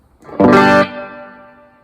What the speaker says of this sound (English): Now let's try the reverb out.